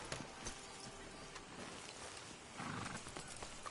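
Horse hooves in Red Dead Redemption 2 clop quietly and evenly against a soft, rain-like background hiss, fairly faint and with no talking.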